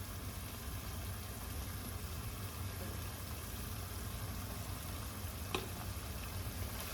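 Italian seasoning being stirred into a sizzling low-carb lasagna filling in a hot pan gives a constant, even frying hiss with a faint scrape of the spoon, steady throughout with no talking.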